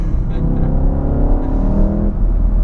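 A 2018 VW Golf R engine roars loudly and close, revving hard as it accelerates in third gear in a steady, sustained pull.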